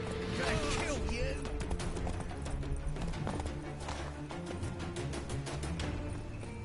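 The horse Roach gallops in a video game, with a steady clip-clop of hoofbeats running throughout under game music and a brief whinny, moderately loud and close.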